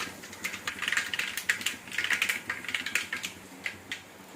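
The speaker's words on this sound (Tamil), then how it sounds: "அப்போ தான் அந்த கடுகு வந்து பொரியும்." Mustard seeds crackle and pop in hot oil in a home kitchen, a dense run of sharp, irregular clicks and spits that keeps going close up, with no voices.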